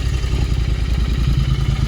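Royal Enfield GT 650 motorcycle engine idling steadily with a low, thumping mid-pitched rumble while being parked, close and continuous with no talk.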